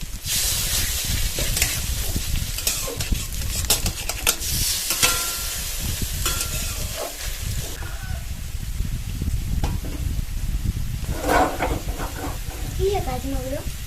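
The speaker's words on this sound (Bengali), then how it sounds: "বড়াগুলো বড়ার আকারে ছোট ছোট করে দিয়ে দেবো।" Prawn fritters fry in hot oil in a home kitchen pan, giving a steady, close, dense sizzle that runs throughout, with occasional sharper crackles and light clatter from stirring.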